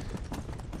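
Horse hooves clip-clopping in the Red Dead Redemption: Undead Nightmare video game, a quick run of soft, evenly spaced hoofbeats heard briefly and at low level.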